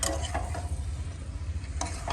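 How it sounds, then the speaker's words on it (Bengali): Chicken with spices sizzles and is sautéed in a pan outdoors on a rooftop in winter, giving a continuous close crackle with a few soft scraping stirs near the start and end. "এখন ভালো করে কষাবো তারপরে যখন মাংস থেকে তেল ছেড়ে দেবে তখন ওই ভাজা আলুগুলো দিয়ে দেবো"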